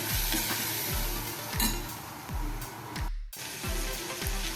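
Yogurt and spice masala sautés in oil with a continuous sizzle and regular rhythmic spatula scrapes against the pan, pausing once briefly before resuming.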